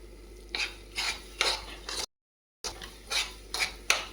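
A spoon mixes rice with pickle and ghee on a plate, repeated soft scraping strokes in a steady rhythm, close and fairly quiet, with a brief silent gap midway.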